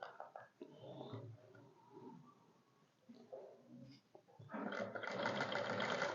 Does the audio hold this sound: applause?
no